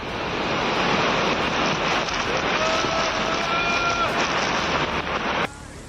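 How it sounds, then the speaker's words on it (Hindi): The Bada Mahadev waterfall in Mandsaur, swollen after heavy rain, pours with a dense, steady roar of rushing water, loud and continuous until it cuts off abruptly near the end. "वीडियो मंदसौर के बड़ा महादेव के झरने का है।"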